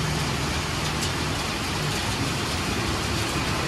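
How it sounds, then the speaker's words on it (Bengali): Heavy monsoon rain pours down outside a balcony in a steady, dense, unbroken roar of noise with no voices. "যা বৃষ্টি নেমেছে, সেই মুষলধারে বৃষ্টি, সেই বৃষ্টি হচ্ছে একদম।"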